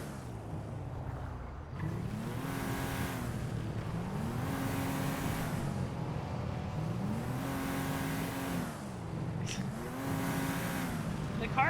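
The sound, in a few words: loud car engine in video game GTA NoPixel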